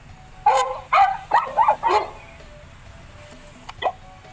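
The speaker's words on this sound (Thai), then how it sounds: "dog," A dog gives four quick, close barks in a row, then a single softer bark a moment later over faint background hiss.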